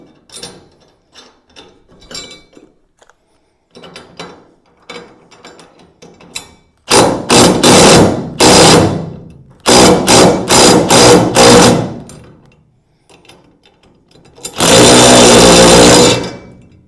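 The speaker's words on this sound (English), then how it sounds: "Make sure you got your cordless going the right direction." A cordless drill driving fasteners during installation of bars on a truck with a Truxedo Truxport tonneau cover, with light clicks and taps first, then several loud bursts of whirring and ratcheting, close up with no talk.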